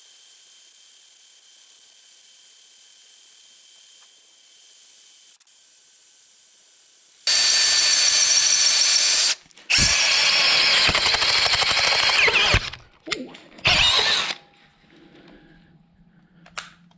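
A power drill fitted with a Norseman step drill bit bores through metal in loud, harsh bursts of grinding and whining. The bursts stop and start in several separate runs, with quiet gaps between them.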